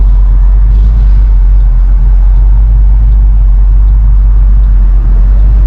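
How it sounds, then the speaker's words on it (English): Car engine idling half-warm after a radiator recore, a loud, steady low rumble with a slight loping pulse, running continuously without revving. "I'm idling."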